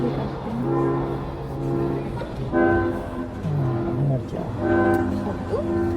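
A train arriving at a station, sounding a sustained, tonal horn in several long blasts over rumbling rail noise, with people talking nearby.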